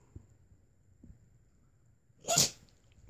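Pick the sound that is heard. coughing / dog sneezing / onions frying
dog sneezing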